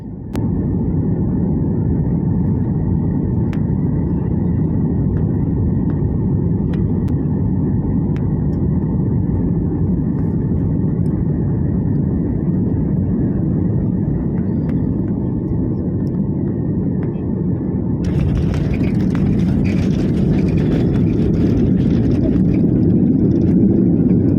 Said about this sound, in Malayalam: വിമാനം ജിദ്ദ എയർപോർട്ടിൽ ലാൻഡ് ചെയ്യുന്ന വീഡിയോ കാണാം ആ സമയത്തെ ചെറിയ കുലുക്കവും ശബ്ദവ്യത്യാസവും വീഡിയോയിൽ ഇനി കണ്ടു നോക്കൂ